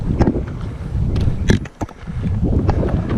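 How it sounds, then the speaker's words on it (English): Gusty wind buffets the microphone on the Eldorado Canyon hiking trail beside wooden-beam stairs, a steady low rumble that dips briefly near the middle before surging back. "Windy day,"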